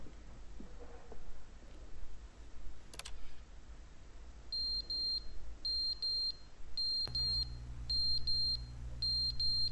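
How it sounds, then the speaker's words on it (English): Smoke alarm in The Stanley Parable chirps in short, evenly spaced high electronic beep bursts that start partway through and repeat about once a second over a low hum, with no talking. "Because that sounds like the smoke alarm went out."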